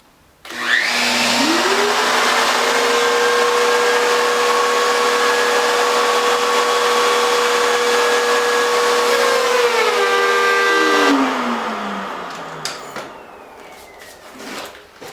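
A router cuts a rabbet in wood with dust collection running: the motor spins up to a loud, steady whine, holds under cutting load for about ten seconds, then winds down as it stops.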